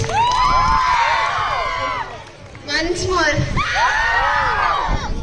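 Children at a school English-speaking program scream and cheer loudly in high-pitched bursts, with a short lull in the middle before a second wave of shrieks; a voice briefly speaks over them.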